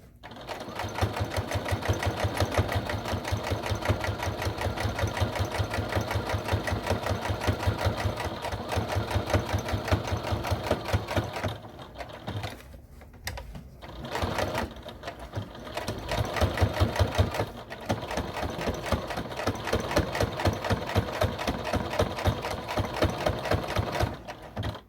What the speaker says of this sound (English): Let me sew a tiny bit more.